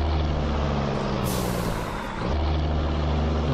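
A Mercedes-Benz Atron 1635 truck pulling a Krone container trailer releases a sharp hiss of air brakes over its loud, steady diesel rumble while slowing in traffic.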